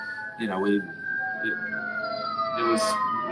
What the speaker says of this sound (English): It's usually the sirens are my background, not yours.